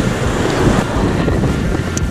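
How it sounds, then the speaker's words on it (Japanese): Very strong wind roars against the microphone at a lakeside fishing spot near a red bridge. The gusts are dense, loud and continuous, with water faintly underneath and no one speaking. "超強風だ"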